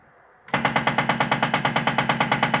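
A Prusa MK3S 3D printer fitted with an MMU2S unit starts up abruptly with a loud, rapid mechanical clatter, a rhythmic burst of roughly eight knocks per second, close by, with no talk.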